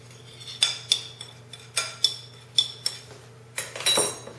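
A utensil whisks honey spicy chicken wing sauce in a bowl, giving a regular run of sharp clinks and scrapes roughly every half second over a faint hum.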